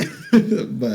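A person fakes a cough while sick, a couple of short, voiced throaty bursts, close and clear, with a brief vocal lead-in.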